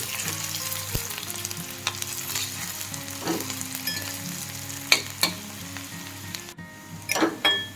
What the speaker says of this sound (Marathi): हा एक कांदा आणि दोन मिरच्या चिरून घेतलेले ते घालू याच्यामध्ये ते आता व्यवस्थित परतून घेऊ